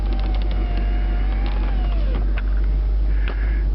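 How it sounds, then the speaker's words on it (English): Power window motor in a 1999 Corvette C5 convertible whirring steadily as the glass travels, a continuous close mechanical hum with a slight pitch drift and a brief creaking thunk near the end, heard alone. "Man, GM makes a great window motor."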